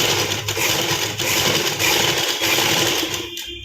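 A sewing machine stitches fabric in a continuous loud, dense whirring rattle, running steadily close by before slowing and stopping near the end.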